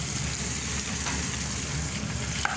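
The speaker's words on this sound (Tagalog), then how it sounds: "So, sautein lang natin itong ating onion, guys. And lagay na rin natin with yung ating chicken." Onion and chicken sautéing in a pan for chicken afritada, a steady, even sizzle running throughout at moderate loudness with no talking.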